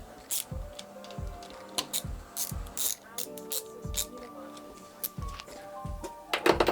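Ratchet torque wrench clicking as camshaft plate bolts are tightened on a truck engine, a series of sharp mechanical ratcheting clicks in uneven bursts with faint workshop background.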